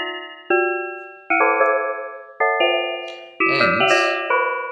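Synthesized bell clusters built from random arrays in SuperCollider strike in succession, each chord of pure sustained partials ringing and decaying before the next, about six clear strikes with a brief noisy burst near the end.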